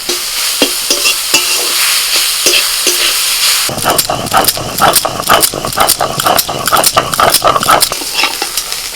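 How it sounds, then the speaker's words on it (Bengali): Radish greens frying in a karahi with a little sugar, a soft sizzle at first, then loud repeated scraping and clattering of a spatula stirring in the pan. "কিছুক্ষণ ভেজে নিয়ে এবার অল্প একটু চিনি দিয়ে দিচ্ছি"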